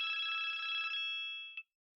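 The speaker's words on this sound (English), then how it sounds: "Line 1 is ringing again." A telephone line rings with a bright, continuous electronic trill for about a second, followed by a short faint blip, then silence; no talk.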